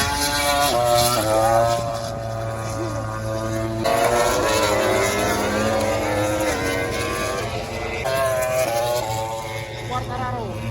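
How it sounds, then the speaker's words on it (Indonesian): MotoGP racing motorcycles warm up at the Mandalika circuit, with high, whining engine tones that rise and fall as bikes pass, over steady crowd noise and a continuous loud drone. "kita tiba di sirkuit Mandalika saat para rider sedang melakukan pemanasan sebelum balapan"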